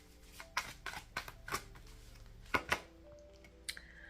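Cards riffled and shuffled in several quick bursts, with crisp papery flutters and taps, close by, in an otherwise quiet room.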